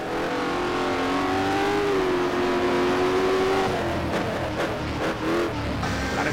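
A race car engine in rFactor at the Jerez circuit, a loud sustained high-pitched whine climbing steadily through the revs, then a quick run of gear shifts with brief dips and recoveries toward the end.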